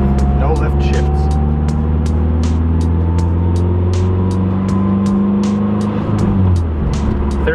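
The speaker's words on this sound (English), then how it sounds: "Here's the WOT box. Flat foot shifting." A Mazdaspeed 3 with a WOT box revs hard under full throttle through flat-foot, no-lift upshifts, its engine note climbing steadily with sharp, regular ticking pops between shifts, loud and close throughout.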